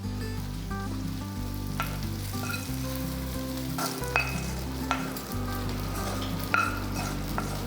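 Hot tempering for a dosa meal poured into tomato chutney, sizzling loudly and steadily throughout with a few sharp pops and crackles, close and alone without any voices.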